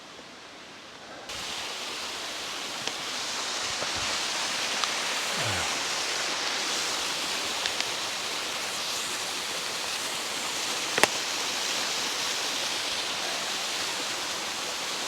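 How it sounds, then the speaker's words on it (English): A waterfall near Ribbon Falls in the Grand Canyon, a constant loud rushing roar of falling water close by, starting after a brief quieter moment and holding steady, with a few faint knocks and clicks. "Man, how often do you get to drink water from a waterfall?"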